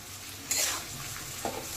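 Spices with a splash of water cook in a pan for a vegetarian vegetable dish, a quiet close sizzle broken by two or three short stirring scrapes.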